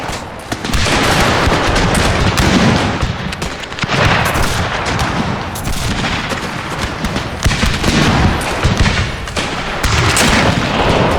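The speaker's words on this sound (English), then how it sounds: "Firing right into each other." Musket volleys in a Total War game set in the Thirty Years War: loud, dense rolling gunfire with overlapping crackling shots and bursts, sustained throughout with brief lulls.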